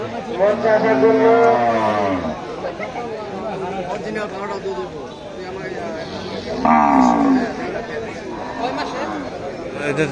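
Cattle at a Qurbani cow market in Lohagachhiya, Sreepur, Gazipur moo in long drawn-out calls, one early and another later, over busy crowd chatter and nearby voices.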